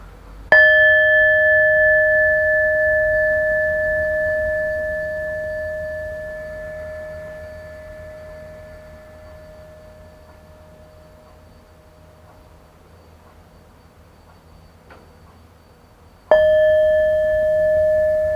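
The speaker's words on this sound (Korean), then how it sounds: "싱잉볼 소리가 들리면 싱잉볼의 소리와 진동으로 마음을 모으고 의식을 집중해 봅니다" A singing bowl is struck and rings with a pure sustained tone and overtones, slowly fading for about fifteen seconds before a second strike brings a fresh, loud ring, alone in a quiet room.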